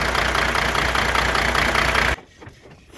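Diesel engine idling with a hard knocking and pinging from a faulty number 2 injector, a loud, steady mechanical clatter close by for about two seconds before it cuts off abruptly into quiet.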